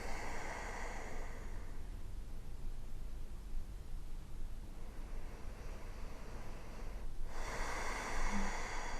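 Deep, slow breaths during a second-trimester prenatal yoga flow, each a broad airy rush, with a long drawn breath at the start and another strong one near the end, steady and close with no talking.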